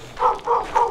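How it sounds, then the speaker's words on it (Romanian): A dog barks three times in a rural Maramureș village yard, evenly spaced, moderately close and clear with no talk. "Ia uite că ne latră gruia."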